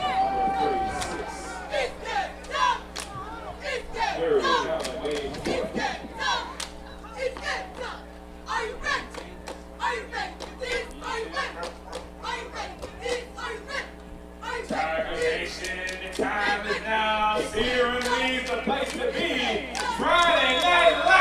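A Friday night crowd murmurs at a high school football game between Cleveland Heights and Akron, a steady bed of chatter and occasional claps beneath a prominent commentator's voice and bursts of PA music.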